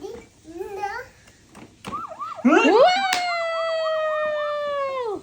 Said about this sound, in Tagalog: para gumana yung fire truck niya